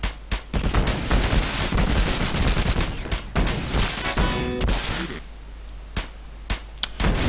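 Gunfire in the Sega Genesis video game Urban Strike, dense rapid bursts of shots and explosions packed closely together, loud and continuous with a few sharp isolated blasts toward the end.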